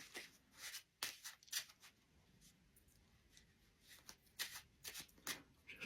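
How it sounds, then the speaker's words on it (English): Playing cards riffled and shuffled by hand at close range, a quiet run of soft, papery bursts in quick clusters with brief pauses between, alone with no talk. "I think I'll do a quick shuffle"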